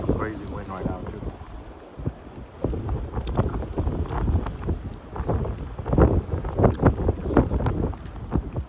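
Strong outdoor wind buffeting a microphone in gusty, rumbling bursts, loud and close, mixed with someone talking throughout.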